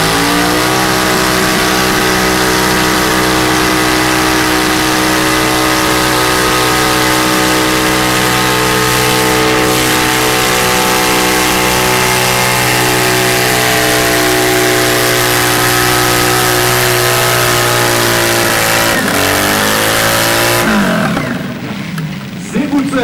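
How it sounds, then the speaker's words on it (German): Modified engine of a 500 kg super stock garden pulling tractor at a 2002 pulling event in Krumbach, a loud sustained roar holding steady under load for about twenty seconds before dropping and cutting off. "Sehr gut zu erkennen, dass das kein Original Motorsound mehr ist, den sie dort produziert hat."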